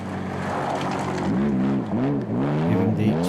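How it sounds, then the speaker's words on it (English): Porsche 911 SC rally car at a Belgian rally, its engine note rising and falling loudly through corners, close and continuous. "Jan Wiedogen with his Porsche 911 SC."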